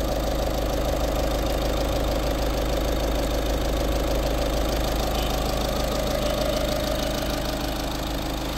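A 2016 Volkswagen Polo Highline diesel engine idles close up with a steady, even clatter and hum that holds unchanged throughout, with no voices.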